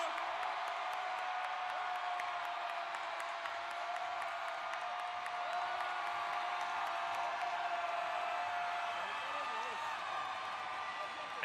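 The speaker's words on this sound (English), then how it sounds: "this crowd set a new record inside for their decibel volume, as encouraged by the in-house entertainment" Loud, sustained roar of an ice hockey arena crowd at a Paralympic sledge hockey game between Korea and the Czech Republic, filling the space with steady cheering and whoops throughout, with no pauses or lulls.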